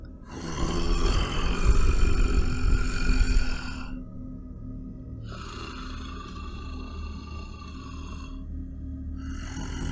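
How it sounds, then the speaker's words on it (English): Heavy, rasping snores come in slow cycles, one long loud rumble followed by quieter drawn-out breaths. "I could still hear the heavy snoring coming from my parents' room."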